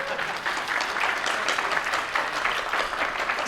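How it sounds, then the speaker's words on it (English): A convention audience at BronyCon applauds, a steady, even wash of many hands clapping at moderate level, sustained without a break and with no talk over it. "You can applaud."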